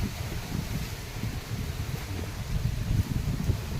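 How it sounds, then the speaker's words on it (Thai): Strong wind gusts across open green rice fields near banana trees, a steady, rough roar of wind buffeting the microphone with faint rustling throughout, no voices. "ลมแรงลมแรง"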